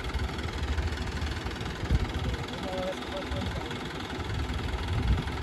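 A tractor engine runs hard and loud with a deep, rumbling labor, knocking steadily throughout while pulling a heavy trolley.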